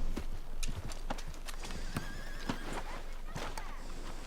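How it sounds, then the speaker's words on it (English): Horse hooves clip-clop steadily along a road in the Red Dead Redemption 2 video game, with a whinny partway through, close and clear, while someone talks over it. "He's a fine horse. Even though his stats aren't great, he's a loyal beast."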